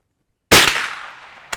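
A single loud shot from a Savage Arms Springfield 120A single-shot rifle cracks sharply out of silence and decays with a short rolling echo, followed by a faint smaller knock.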